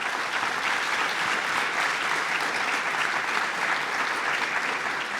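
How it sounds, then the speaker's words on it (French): A conference hall audience claps in dense, sustained applause, an even roar of many hands at steady loudness for several seconds with no pauses. "Donc, j'aimerais bien qu'on les applaudisse."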